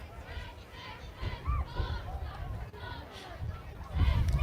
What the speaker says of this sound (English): Strong north wind blowing into the face of Parkview right now. You can hear it in our crowd mic.